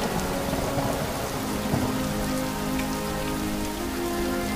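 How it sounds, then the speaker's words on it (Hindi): Heavy rain pours steadily in a thunderstorm, a dense unbroken hiss of drops on surfaces with a low rumble of thunder underneath, loud and constant throughout with no voices. "तभी जोरदार बारिश और आंधी तूफान आता है"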